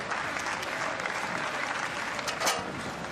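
Applause from the home crowd for a high jumper at a Borås athletics meeting rolls on as a dense, even clapping roar, swelling briefly near the end, with no talking over it.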